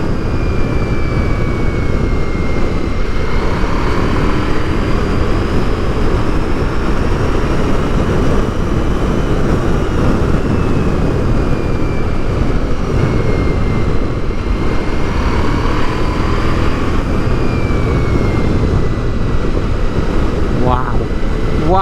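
Ducati Multistrada V4S Grand Tour motorcycle cruising on the road, heard as steady engine drone buried under heavy wind roar, with a faint whine shifting in pitch now and then.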